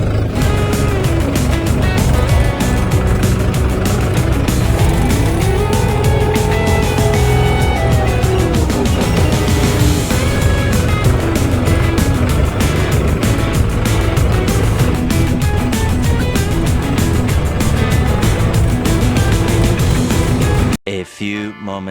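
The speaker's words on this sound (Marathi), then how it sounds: "फायनली मित्रांनो बघा चालू झालं ट्रॅक्टर." A New Holland 3630 tractor engine runs at a loud, steady idle close by, with a continuous low rumble that cuts out abruptly near the end.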